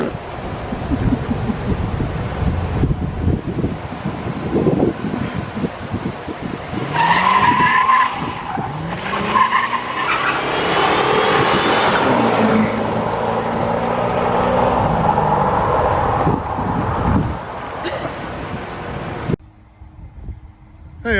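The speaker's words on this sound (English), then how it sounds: "He just wants to burn those tires up." A 1984 C4 Corvette doing a burnout, tires squealing and skidding loudly over a revving engine for many seconds before cutting off, with wind buffeting the microphone.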